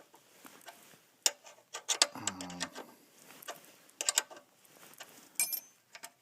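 Snow blower drive-pulley screw being loosened with a tool on an MTD Yard Machine, a faint series of close mechanical clicks and ratcheting ticks with a brief grinding buzz in the middle.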